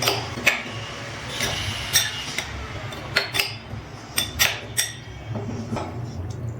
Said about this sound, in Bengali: এবার চিংড়ি মাছটা সব কিছু মিশিয়ে ভালো করে ম্যারিনেট করে নিচ্ছি।